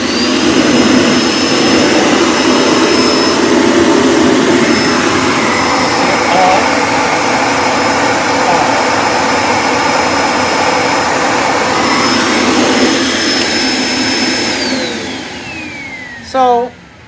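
A Kenmore Intuition upright vacuum cleaner with a switchable brush roll runs with a steady whining hum, then spins down near the end, leaving a brief clunk.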